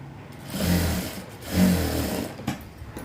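A sewing machine stitches a blouse in two short, steady runs of rapid mechanical whirring, close by, separated by a brief pause, with no talking.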